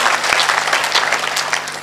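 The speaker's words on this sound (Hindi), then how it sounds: "आप ताली बजाइए, बहुत कमजोर ताली है।" A crowd at a poetry gathering bursts into loud, close applause, a thick continuous clatter of many hands lasting under two seconds.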